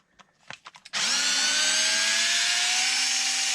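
A cordless power drill removing screws from the rear suspension of a Traxxas XRT RC truck, a few short clicks and handling taps, then a close, loud steady whine of the motor running continuously.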